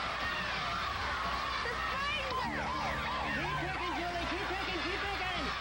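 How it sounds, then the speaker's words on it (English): A siren-like sweeping wail rises and falls repeatedly on a live home shopping broadcast, mixed with a crowd's wow and steady chatter underneath. "It made a siren noise and a wow at the same time."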